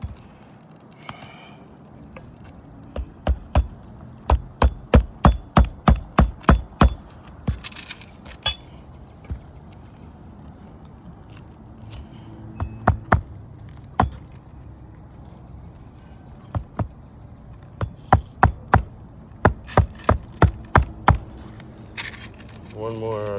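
Nails are hammered in, sharp blows landing in quick bursts of several strikes separated by pauses, with some single hits between the clusters.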